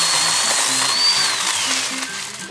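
A loud, steady whine of a Ryobi power tool trimming trees nearby, its pitch wavering slightly, with rhythmic mechanical chatter underneath.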